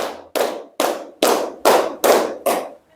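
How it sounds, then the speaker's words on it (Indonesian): Seven sharp hand claps in a steady, even rhythm, loud and close, with no talking. "Tepuk 2 tambah 3"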